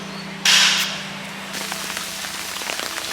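Heavy rain in Bahia, Brazil, starting as a sudden loud hiss that eases into a steady patter with scattered drip and splash sounds, heard alone without voices.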